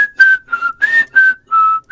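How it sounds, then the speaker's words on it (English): A person whistles a wavering tune indoors in short, breathy phrases with small pauses between notes, close and fairly loud, with no talking over it. "I just hear just whistling."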